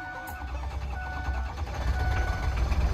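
Low, rough rumble of a diesel truck engine catching and running unevenly after a cold start helped along with ether and a hair dryer, building slightly in loudness over a few seconds.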